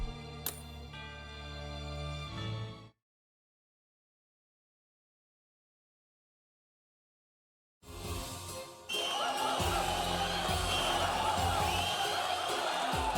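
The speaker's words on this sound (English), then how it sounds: "Their applause is positively thunderous." Crowd cheering and applause in the Twisted Wonderland video game after a song, a dense, steady wash that rises after a stretch of silence, preceded by a short music tail.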